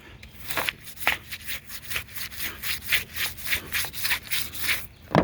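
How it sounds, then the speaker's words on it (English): A brush scrubs back and forth in quick, rhythmic rough strokes during a water leak repair, close and moderately loud with no talking. "Rinse and scrub, rinse and scrub. With my brush."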